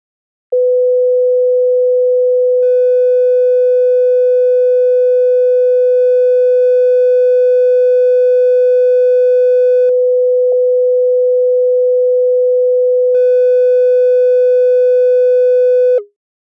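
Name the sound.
sine wave through guitar stomp box distortion plug-in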